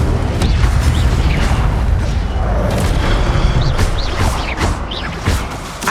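An Incendio fire spell cast in the Hogwarts Legacy video game, a loud, continuous roaring whoosh of flame with booming low rumble and a few bright crackles running throughout.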